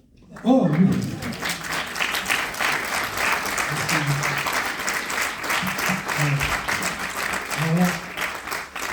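Audience at a congress applauding after a talk on werewolves and the White Lady in Velay, clapping starting abruptly and continuing steadily, with someone speaking briefly over it.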